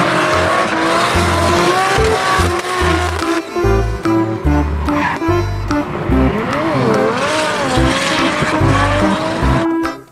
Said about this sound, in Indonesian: Yang ini ada mobil balap.